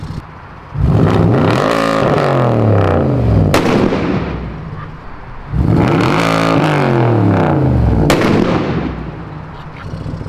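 A loud engine revs hard twice, climbing sharply in pitch with crackling pops before dropping back, each burst lasting several seconds.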